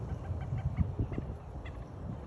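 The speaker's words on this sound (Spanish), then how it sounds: "Son bien raros esos pajaritos y hacen como gato, maullan." Faint, short cat-like meowing bird calls come and go over a low murmur of background noise in a Kissimmee, Florida park, scattered throughout without a steady rhythm.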